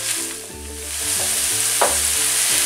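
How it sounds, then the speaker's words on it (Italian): Empanada filling seasoned with cumin sizzles loudly in a pan while being stirred, a steady crackle of frying with scraping stir strokes on top, close and without voices. "Diamo una bella mescolata e lasciamo insaporire per circa 5 minuti gli ingredienti."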